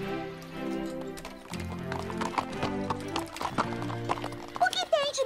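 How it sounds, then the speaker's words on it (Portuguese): Two cartoon horses walk side by side in an animated series, their hooves clip-clopping steadily under a musical score, with a whinny near the end; speech occurs in the scene. "Mais numa dupla de cavalos andando juntos lado a lado, afinal."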